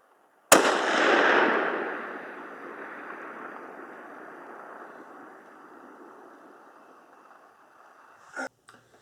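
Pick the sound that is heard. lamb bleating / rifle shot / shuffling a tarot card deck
rifle shot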